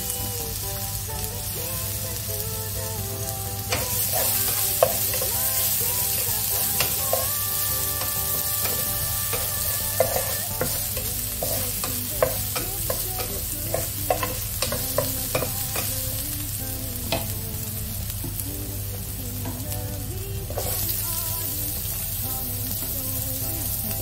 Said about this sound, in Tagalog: olive oil yung ginamit ko sa pag-fry ng ating isda